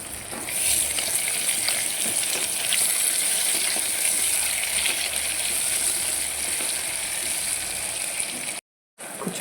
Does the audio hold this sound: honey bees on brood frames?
no